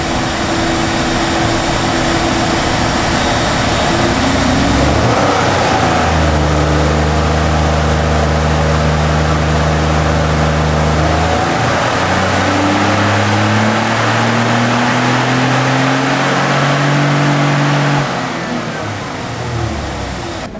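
2011 Ford F-150 EcoBoost engine on a dyno pull, revving up loudly through several gears in long rising sweeps, then easing off at the end, heard close and alone.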